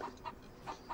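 Short clucks from a chicken on a farm, about four soft calls spaced unevenly across a second, fairly quiet with no talking.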